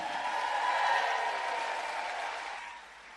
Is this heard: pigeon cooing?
no